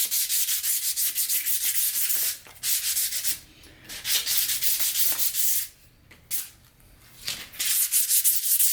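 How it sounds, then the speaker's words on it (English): A wooden Purpleheart sword is hand-sanded with 320 grit sandpaper, close rapid back-and-forth rasping strokes in rhythmic bursts separated by brief pauses. "this is really just running the sandpaper over the entirety of the surface"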